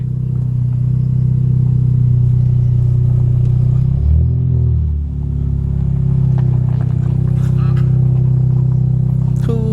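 A Toyota Voxy's engine runs with a steady, close, low rumble that dips briefly midway, while faint voices are heard in the background.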